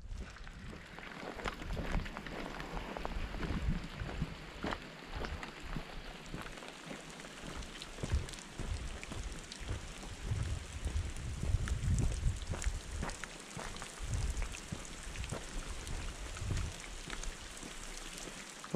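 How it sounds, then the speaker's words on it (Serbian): Water falls like constant rain on Bolivia's Death Road, a steady patter and spatter of drops with gusts of wind noise, continuous and fairly close throughout. "Pogledaj, koda kiša, vječna kiša koda pada."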